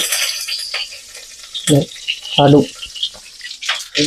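Sesame oil is poured into a hot pan for Trivandrum-style lemon pickle, giving a soft, steady high sizzle and hiss throughout while a person talks over it in short bursts.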